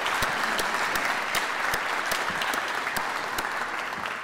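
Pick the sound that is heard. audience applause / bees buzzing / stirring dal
audience applause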